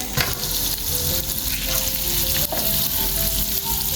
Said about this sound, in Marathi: सगळ्यान पयलीं घालया आमचें बटर